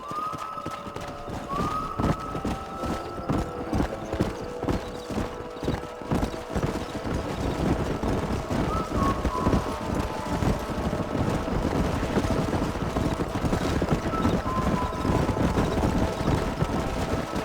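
Horses clip-clop steadily over a long stretch in the Red Dead Redemption video game, with wind noise in the background and occasional faint voices.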